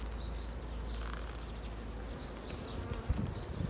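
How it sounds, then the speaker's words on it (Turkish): Dense, continuous buzzing of honey bees at a busy, strong three-storey beehive colony, a steady hum heard close to the hive with occasional brief louder passes and no talk. "Şöyle arıları görebiliyorsunuzdur. Çok yoğun bir çalışma var."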